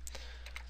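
Quick keystrokes on a computer keyboard, a few light clicks in rapid succession, close and faint over a steady low hum.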